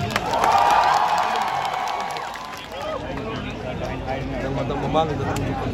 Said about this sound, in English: A big round of applause for Uza Ruben.